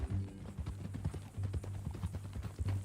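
Horse hooves clip-clop at a steady walking rhythm in the Red Dead Redemption 2 game, fairly close, under a low droning background.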